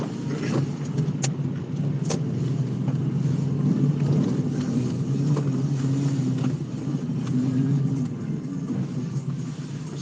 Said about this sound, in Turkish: Kepes Tepesi biraz yoğun oluyor. E, buranın trafiği biraz farklı.